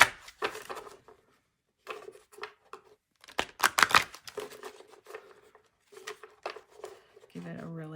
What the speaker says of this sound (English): Give it a really good shuffle.